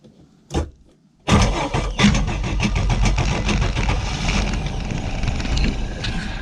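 A Mercruiser boat engine, choked for a cold start, gives a short crank, then catches with a loud roar and settles into a steady, rumbling idle that runs close by to the end.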